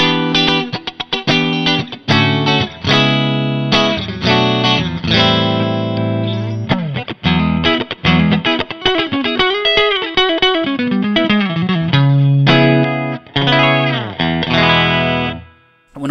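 Electric guitar with Kinman noiseless Jazzmaster pickups in the middle pickup position, bright, slightly quacky tone, played through effects in a mix of strummed chords and single-note runs, loud and close, no voices.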